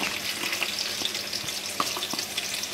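Two medium onions, finely chopped, fry in oil for Kabuli pulao, giving a steady close sizzle with scattered crackles and soft stirring clicks throughout.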